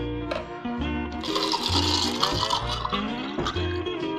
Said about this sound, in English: Here's the Mai Tai. Here's the beautiful glass that's provided by Lawrence Tritton. We're going to pour it in.